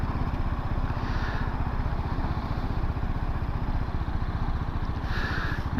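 A BMW G310GS Rallye motorcycle on semi-knobbly tyres rides along a road slick with diesel patches, its engine thrumming in a steady, loud pulsing drone heard from on board.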